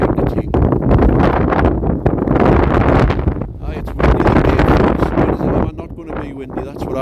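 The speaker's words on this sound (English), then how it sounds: "Aye, it's windy today, folks." Strong gusty wind at North Shields buffets the microphone continuously, a loud roaring rush that swells and eases across the whole stretch.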